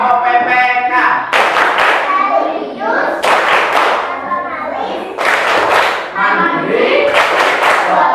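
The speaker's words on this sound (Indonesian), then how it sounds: "kita tepuk PPK" A classroom of pupils doing a rhythmic clap chant with their teacher, bursts of loud unison claps in patterned groups alternating with chanted voices, close and energetic.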